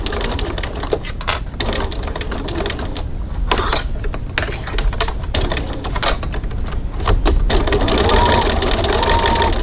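A sewing machine basting quilt pieces together, running a line of stitching about 3 mm from the edge, with a steady close mechanical whir over a busy background and some faint talk.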